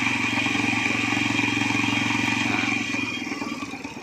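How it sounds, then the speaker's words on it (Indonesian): An old Honda Astrea Grand motorcycle engine runs close by with a light, rapid mechanical ticking over its steady drone, rising briefly as the throttle is blipped, then settling back toward idle. "kalau digas, nah, suara kletuknya agak mendingan ya, nggak terlalu kasar"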